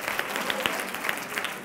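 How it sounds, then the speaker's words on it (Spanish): A brief burst of audience applause at a talk on teachers' emotional skills, a steady, fairly close patter of many hands clapping with a few sharper claps. "un aplauso"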